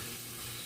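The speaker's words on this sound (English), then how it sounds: "while the sausage is browning" Sausage browning in a pan gives a steady, faint, even hiss and sizzle that stays constant throughout, with no voices.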